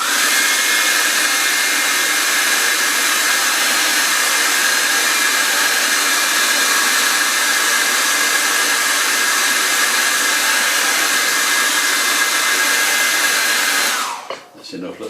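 A hair dryer blows over a watercolour painting of a winter lane, a loud, steady close-up whoosh and motor whine that holds constant before cutting off near the end.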